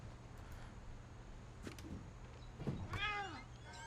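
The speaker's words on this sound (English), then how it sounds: "Did I hear a cat? I think I heard a cat." Cat meows faintly in the video game What Remains of Edith Finch, two short wavering calls near the end over a quiet ambient hum.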